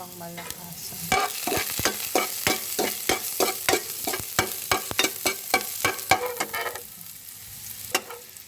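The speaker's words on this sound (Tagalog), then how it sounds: "luya kapag mainit na yung mantika sa palayok" Ginger sizzling and crackling in hot oil in a clay pot, a rapid series of sharp popping spatters over a constant frying hiss, close up.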